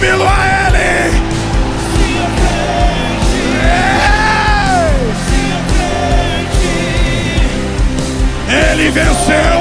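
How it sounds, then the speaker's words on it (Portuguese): A church congregation shouts and cheers for joy during a sermon on spiritual warfare, a loud sustained crowd roar with whoops and yells swelling over music throughout. "Dê um grito de júbilo a ele."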